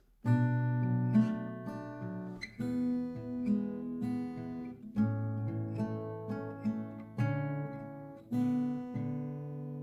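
Acoustic guitar chords strummed steadily in a repeating pattern, clear and close, with no voices.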